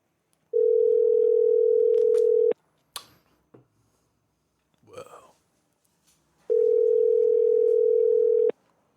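Outgoing phone call ringing tone, two long steady electronic rings separated by a few seconds of near silence with faint rustling.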